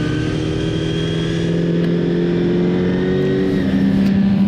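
A Honda RVF400 V4 racing motorcycle laps Sportsland SUGO in an open endurance race. Its engine drones loud and steady, holding a high rev note that shifts pitch slightly, with other bikes' engines mixed in close by.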